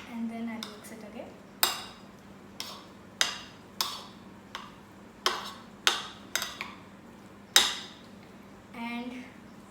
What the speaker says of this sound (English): And then I'll mix it again.